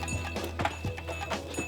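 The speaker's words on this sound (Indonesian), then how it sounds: "ini lori yang di tengah-tengah perkebunan yang sudah dibawa ke jalan utama dan ditarik menggunakan sapi" A pair of cattle pulls loaded sugarcane lorry carts along a plantation road, producing a steady series of soft hoof clops and knocks over a constant low mechanical hum.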